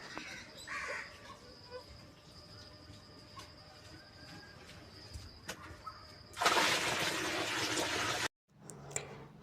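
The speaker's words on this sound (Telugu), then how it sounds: "పక్షులు భలే అరుస్తున్నాయి కదా" Birds call outdoors, including crow-like caws, over a steady background hum, and a loud burst of broadband noise near the end drowns them out.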